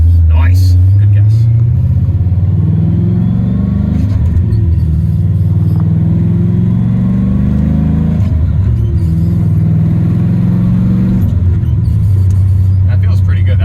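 Pontiac GTO with a built 6.0 engine, a deep throaty rumble whose pitch climbs and dips as the pedal is eased in, loud and close throughout, with talk over it.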